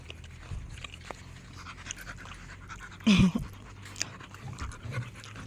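A dog pants rapidly and close by, breaking into a brief, louder whimpering burst midway before the quick breathing resumes, with no talk over it.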